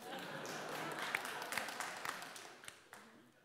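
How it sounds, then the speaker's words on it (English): A debating-chamber audience at a comedy debate giving brief applause, a dense patter of clapping that swells and then thins out over a few seconds. "See, got a couple of claps"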